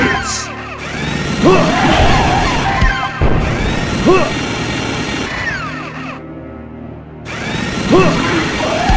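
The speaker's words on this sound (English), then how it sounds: "Drill." A drill weapon in the Dreamcast game Zombie Revenger runs in bursts with a harsh, grinding whine, crashes and metallic clatter, loud and continuous with brief dropouts.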